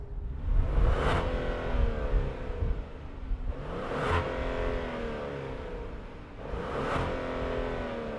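A 2026 Genesis GV70 Sport Prestige V6 twin-turbo engine revs sharply three times, evenly spaced, each blip rising and falling back to a steady, close idle rumble.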